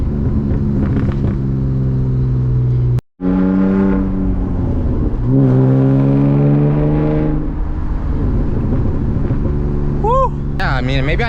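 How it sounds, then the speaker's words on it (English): A BMW E36 328i with a manual gearbox and loud exhaust revs hard through rev-matched downshifts, engine pitch climbing and falling in sweeping blips with a brief gap between shifts, close and loud under a driver's voice. "I've gotten a lot better with my downshifts, guys, if you guys can tell, my rev matches"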